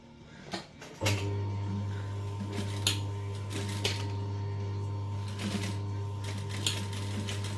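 A sewing machine stitches a swivel clip strap for a backpack, starting after a second into a steady close motor drone with faint ticking clicks running throughout, no talking.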